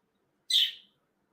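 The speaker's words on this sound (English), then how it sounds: "I'm very surprised at how loud this bird is. And so, yeah, I'm sure finches are loud." Finch giving a single loud, bright chirp, close and isolated against near silence.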